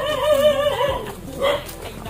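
A dog gives a couple of short yelping barks and whimpers close by in the forest of Malalag, with faint background noise between them.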